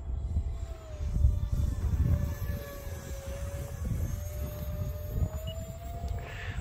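A 3D-printed A-4 Skyhawk model airplane of about 820 grams flies with a steady, high engine whine held at one pitch over a low rumble of wind and distance, loud throughout.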